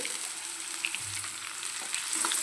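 Tomato frying and roasting in a pan makes a continuous, fairly quiet sizzle with a faint crackle and a brief low stir partway through, and no voices.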